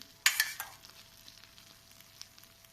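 A brief soft sizzle and hiss as orange syrup soaks into a warm cake, fading quickly into a faint crackle in a quiet room.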